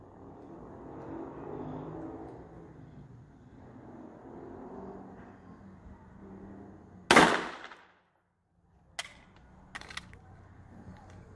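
A pistol fires during precision target shooting practice, one sharp loud crack after a stretch of low outdoor rumble, then a brief silence and a few smaller clicks and pops.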